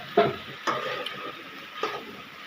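Fish frying lightly in hot oil in a home kitchen, a constant sizzle broken by a few sharp scrapes and clicks from stirring or turning, close and fairly loud, with no talk.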